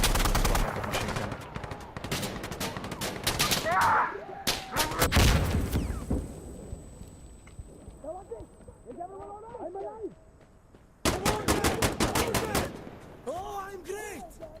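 Rapid bursts of machine gun fire in a video game, loud dense volleys at the start and again near the end, with people talking in between.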